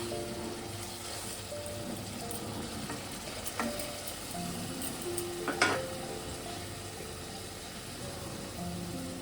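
A raw flat bean paste mixture for sheem paturi is stirred in a pan over a soft, low sizzle, with a few clinks and scrapes of the utensil against the metal, fairly quiet and without speech.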